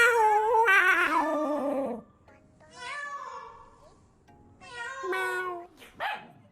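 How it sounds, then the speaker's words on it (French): An animal gives a series of loud, whining, meow-like calls with sharper bark-like yelps, in several separate bursts with quiet gaps between them. "Mais lui, il a aboyé carrément, il s'est trompé de race"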